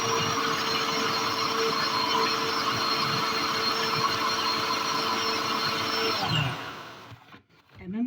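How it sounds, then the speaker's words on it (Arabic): A food chopper blitzing parsley for meatless kofta whirs steadily with a loud, high motor whine for several seconds, then winds down and stops, leaving a few faint clatters at the end. "هضربهم ضربه كده في في الكبه عشان ما اعملكيش ازعاج كده"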